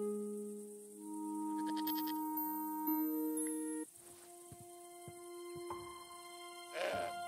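Goat bleating in the video game Broken Sword 5: The Serpent's Curse, a couple of short, wavering bleats set against a sustained musical score and other game sound effects, with no talking.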